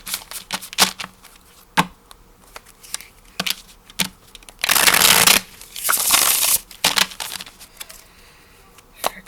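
Tarot cards being shuffled by hand, sharp flicks and taps scattered through the clip with two longer riffling bursts in the middle, close and alone.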